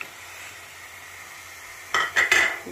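A spoon stirs dry fruits into carrot halwa in a pan, giving a few quick scraping, clattering strokes over a soft background hiss.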